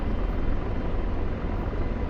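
A helicopter in the DCS combat flight simulator, heard as a steady, dense rotor and engine drone that holds at an even level for the whole stretch, with no talking over it.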